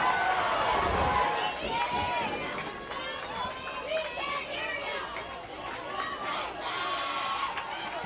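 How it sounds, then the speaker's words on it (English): A video game baseball crowd roars and chatters in waves, loud at first then settling into a steady noisy murmur with swelling cheers, mixed with scattered shouts throughout. "Crowd's going back and forth."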